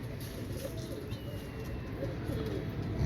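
Dark red-eyed dub pigeons coo softly in a loft, low repeated throaty calls over a steady background hum, with faint movement and no clear talk.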